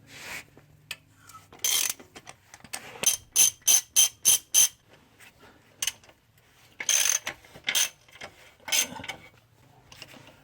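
A ratchet clicks in short bursts while loosening cylinder head bolts on a Toyota Tarago 2TZ-FE engine with a blown head gasket, several quick close ratcheting runs separated by brief pauses.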